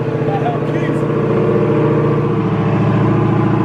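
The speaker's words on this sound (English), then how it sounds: "Give it a little rev, a little rev." Rebuilt salvage 2016 Dodge Hellcat running after a restart, a loud, close, rumbling V8 idle with a steady pulsing beat, with people talking over it.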